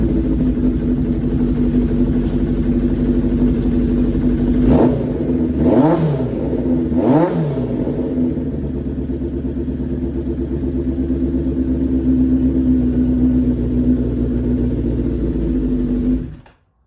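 A motorcycle engine with its side covers off, after carburetor adjustment, runs at a steady idle with a few quick throttle blips early on, then settles into an even, close, loud idle before cutting off at the end.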